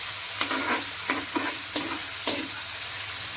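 Chopped tomato and onion fry in a pan for a restaurant-style saag tadka under a constant hissing sizzle. About five rhythmic scraping stirs of a spatula cut through it at close range.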